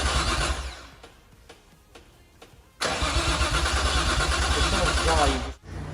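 A Nissan R33 Skyline fitted with a Walbro 400LPH fuel pump cranks loudly and close, its starter churning rhythmically after a quieter stretch, with people talking faintly beneath it.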